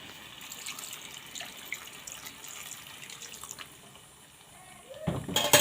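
Water pours into a mustard-paste pointed gourd curry, first as a faint trickle and then as a louder splashing gush near the end.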